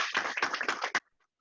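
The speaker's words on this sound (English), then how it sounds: "Round of applause," Brief applause after a presentation on emulator development, a short burst of clapping from a small group that stops abruptly and leaves near silence.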